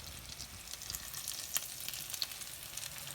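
A breaded Milanese escalope sizzles in butter in a pan right after being flipped, a steady close crackling fry with a few sharper pops.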